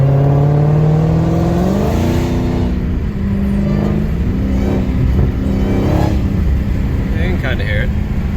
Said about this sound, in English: My exhaust is so loud, I don't know if you guys are going to be able to hear it, really